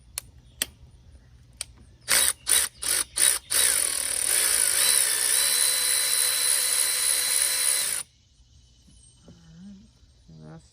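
A powered ratchet removes the timing belt tensioner on a 2007-2011 Kia/Hyundai 2.0 engine, starting with several short whirring bursts and then a steady buzz of about four seconds before it stops, followed by faint clinks.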